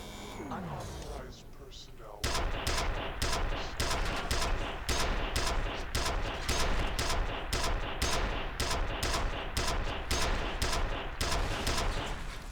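Rapid gunfire from the HIV Penetrator weapon in a video game, dense repeated bursts after a short quieter stretch, loud and continuous as robots are shot down.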